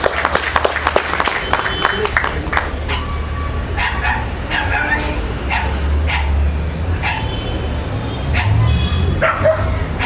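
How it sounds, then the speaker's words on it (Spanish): Audience applause at a tribute ceremony honoring writer Marcos Yauri Montero, steady clapping throughout with sharper bursts, a dog barking and yipping intermittently over it and some voices in the background. "Fuertes aplausos, por favor."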